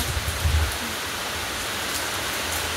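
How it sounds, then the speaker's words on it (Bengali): Steady monsoon rain falling outdoors, a soft continuous hiss of drops with a faint low thump near the start, no voices. "কীরকম বৃষ্টি শুরু হয়ে গেছে, একদম বর্ষাকালের মতো"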